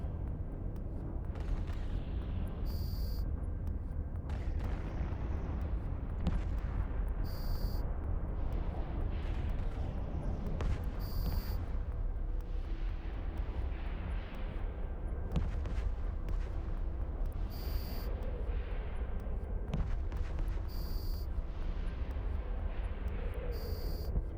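Explosions and weapons fire in the space game EVE Online during a drone fight, heard as dense rumbling booms and rolling blasts with repeated short high electronic tones over them.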